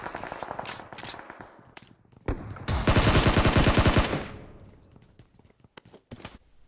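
Bursts of automatic gunfire in the PUBG Mobile shooter game, with a few sharp single shots early, a loud sustained volley in the middle, then scattered shots trailing off.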